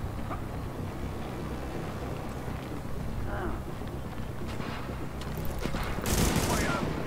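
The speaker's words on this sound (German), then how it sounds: "Wird man denn hier die ganze Zeit beschossen" Sustained gunfire in Tom Clancy's The Division at the Queens Tunnel camp, a mid-distance rattle of shots under a player's talk, with a sharper louder burst near the end.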